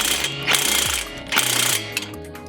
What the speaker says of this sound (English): Now it's time to torque down the bolts to proper spec.